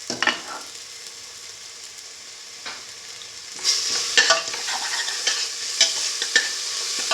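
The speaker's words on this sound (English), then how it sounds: "Now put in the rest of the chili fennel paste." Chili fennel paste fries in a pan with a steady hiss of sizzling, broken by repeated scraping strokes from stirring that grow busier partway through, close and without talk.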